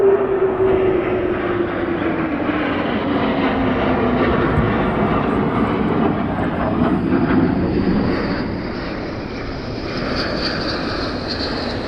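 Military jets fly over RAF Lakenheath, a loud continuous roar with a descending engine whine that gradually fades as the aircraft move away.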